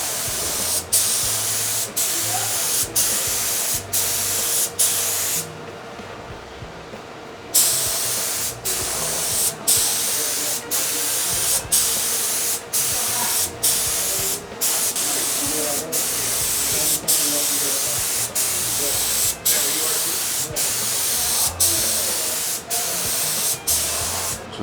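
A spray gun sprays wood dye in a steady, close hiss, with a dozen or so short pauses between passes and one longer break, while someone talks over it.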